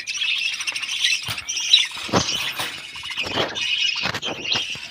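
Ducks in a backyard setup calling with repeated nasal squawks and quacks, close and fairly loud, overlapping in irregular bursts with no talk.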